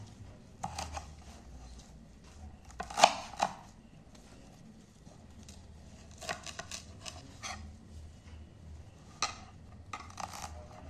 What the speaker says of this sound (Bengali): এইগুলোকে একটু ছোট ছোট করে কেটে নেব।